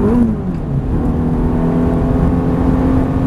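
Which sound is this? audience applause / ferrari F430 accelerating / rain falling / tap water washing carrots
ferrari F430 accelerating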